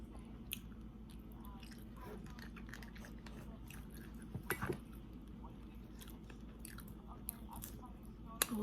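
Close, wet chewing of sausage from a spicy seafood boil, with soft squishy bites and a few sharper clicks over a steady low hum, no talking.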